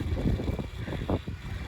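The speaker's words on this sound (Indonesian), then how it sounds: "Dan ini angin kenceng banget." Strong wind gusting on a dark Japanese street at night, a steady low roar buffeting the microphone with rising and falling rushes throughout, close and fairly loud with no talking.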